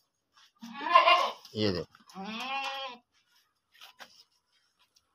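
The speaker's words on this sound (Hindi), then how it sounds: "ये मेरा बकरी है, अल्लाह तेरा भला करे।" A goat bleats loudly nearby in a few wavering cries, with someone speaking briefly around the calls.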